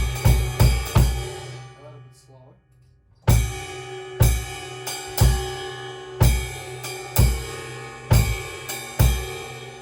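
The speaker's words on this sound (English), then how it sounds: "So the swing pattern on top of the bass drum." A jazz swing pattern played on the ride cymbal over a steady quarter-note bass drum, with evenly spaced kick thumps and a shimmering cymbal wash. It starts after a short spoken pause, and a voice is briefly heard before the beat begins.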